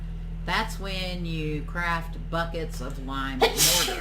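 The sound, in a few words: sneeze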